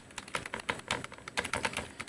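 Fingers typing on an Xtreme Bluetooth wireless keyboard, a quick run of close, crisp key clicks in an irregular rhythm, with no talk.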